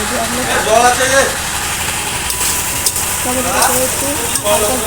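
Chicken with spices and a green chili frying in a pan in a home kitchen, giving a steady sizzle under continuous talking by a woman throughout.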